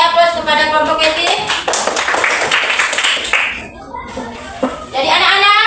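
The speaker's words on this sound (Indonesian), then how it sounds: "Mari kita beri aplaus kepada kelompok Keti." Students in a classroom give a group a round of clapping, a dense burst of loud applause from many hands with children's voices mixed in, fading briefly before swelling again.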